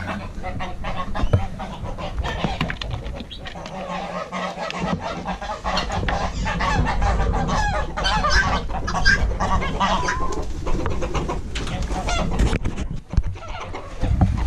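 Chickens in a homestead coop cluck and squawk continuously and loudly up close, with goose-like honks mixed into the busy flock noise.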